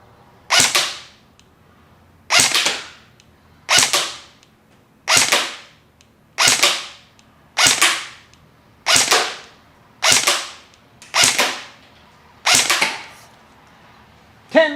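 Nine evenly spaced single shots from a KWA VM4 X-10 airsoft AEG rifle fired at a target, each a crisp close crack with a short mechanical whir, spaced about a second and a half apart against a quiet outdoor background.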